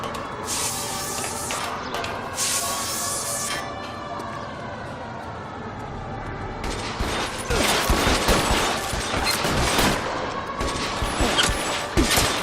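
A shootout in L.A. Noire, dense rapid gunfire that builds in the second half over a wailing police siren and a hissing spray of noise, loud and chaotic.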